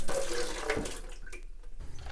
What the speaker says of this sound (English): the water is going to come out